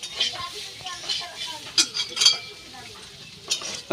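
Spoon scraping and clinking as dal with lentils is stirred in a cooking pot, several short metallic scrapes and knocks at close range, with no talk over them.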